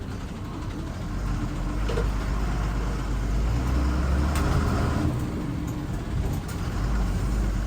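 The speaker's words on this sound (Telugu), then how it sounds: "మన బస్సు అయితే స్టార్ట్ అయిపోయింది నిర్మల్ బస్ స్టాండ్ నుంచి అయితే" A TGSRTC Lahari non-AC sleeper-cum-seater bus pulls out of Nirmal bus stand, its engine a loud, steady low rumble with road and traffic noise around it and no voices.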